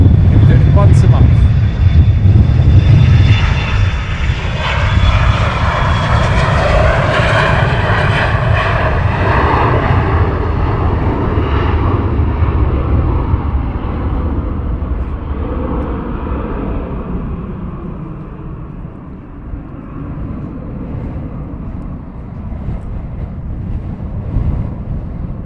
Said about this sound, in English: next aircraft to taxi out or arrive